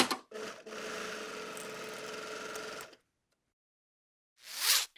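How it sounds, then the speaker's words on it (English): A sewing machine stitches the side seams of fold-over-elastic underwear in one steady, close run of about three seconds, then stops into silence before a brief whirring burst near the end. "So now just sew straight down these 2 side seams."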